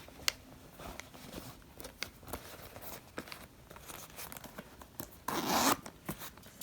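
A zipper is drawn closed on a Faure Le Page carry-on pouch, with scattered close clicks and rustles of handling followed by a short burst of rasping zip near the end.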